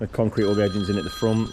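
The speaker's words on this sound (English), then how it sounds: "That's my phone ringing." A mobile phone rings with a steady electronic tone while someone speaks over it nearby, outdoors during concrete work on garden edgings.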